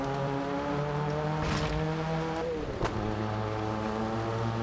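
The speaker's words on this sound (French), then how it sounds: "Oh, le son moteur, il est bien." A rally vehicle engine in the Dakar Desert Rally video game drones steadily with sustained harmonic tones that shift pitch as it shifts and revs, with no talking over it.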